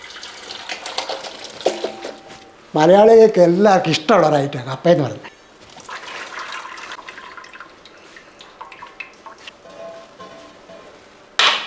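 Water drains off a pot of boiled tapioca in a steady, close splashing rush that runs for several seconds after a stretch of talking, then fades.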